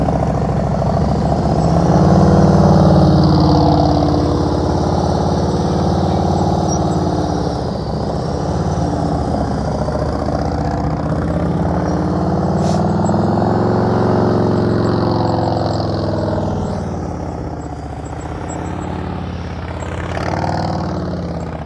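A motorcycle engine runs steadily during slow-speed riding practice, a continuous mid-loud rumble with small throttle variations throughout.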